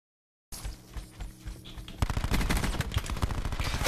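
Rapid automatic gunfire in a shooter video game, quieter bursts at first and then a loud, dense, sustained stream of shots.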